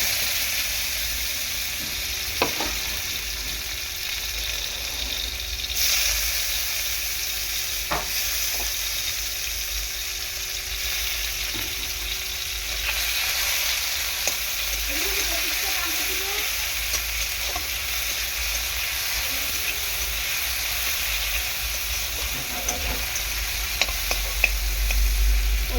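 Tomatoes fry in hot oil with cinnamon and cloves for a soybean curry made without onion or garlic, giving a steady close sizzle with occasional stirring taps and scrapes and no talking.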